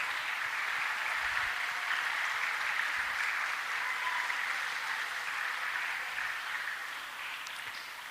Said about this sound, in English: So give a loud applause to our